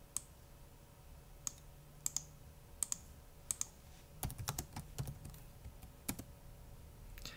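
Terminal commands are typed on a computer keyboard, scattered sharp key clicks that turn into a quicker burst of close typing, with no voices.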